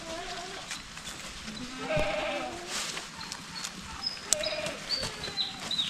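Goats on a farm bleating repeatedly, several animals calling at close range in short wavering cries, with a bird chirping faintly in the background.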